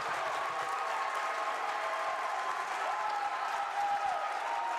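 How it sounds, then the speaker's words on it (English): Harwood basketball fans at a boys playdown game against U-32 cheer and applaud steadily throughout, a dense, continuous roar of clapping and crowd noise in a gym. "And the Harwood crowd on their feet, loving what they just saw."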